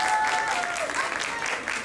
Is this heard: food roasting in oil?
no